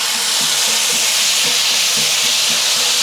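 Garlic sizzling in a hot pan for a creamy garlic parmesan chicken pasta, a loud, steady hiss of frying that carries unbroken throughout with faint low knocks beneath.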